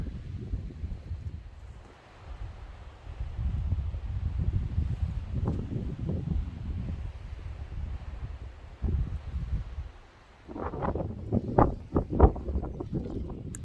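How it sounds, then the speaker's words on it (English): Gusty wind buffets and rumbles across the microphone in rising and falling waves, with some rustling and brief knocks near the end. "it's pretty windy right now"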